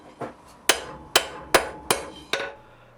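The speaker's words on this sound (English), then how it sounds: "I start by forging the lower jaw the same way I would for a long," A hammer strikes hot steel on an anvil while the lower jaw of blacksmith tongs is forged: six sharp ringing blows, one faint then five loud, landing at an even, unhurried rhythm close by.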